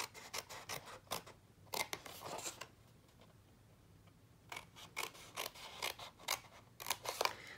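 Scissors snip through card along score lines for a tall trinket box, two bursts of crisp close cuts separated by a quiet pause, with no talking.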